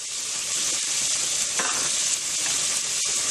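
Chopped capsicum frying in a pan with macaroni seasoning, a loud continuous sizzle of hot oil with faint stirring clicks, near and without talk.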